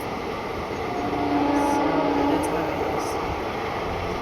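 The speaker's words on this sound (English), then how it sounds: "This is how it looks when it's raining and the train is passing by." A train rumbles past steadily with a broad roar and faint wheel squeals, nearby and continuous, against a rainy background hiss.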